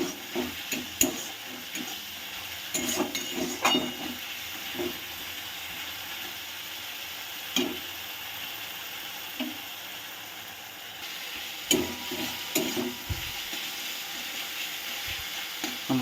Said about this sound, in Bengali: মশলাটা একটু ভাজা ভাজা হোক।